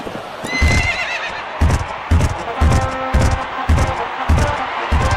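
Horse hooves clip-clop in a steady galloping rhythm during a race in the horse racing video game Gallop Racer 2004, with loud repeated low thuds and a horse whinny near the start.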